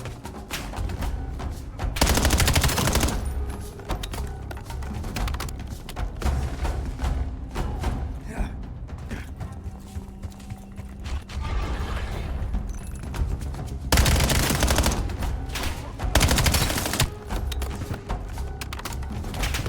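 Gunfire aimed at plant growths in the Black Ops 7 campaign, with bursts of rapid shots and thuds swelling over a busy, rumbling game backdrop.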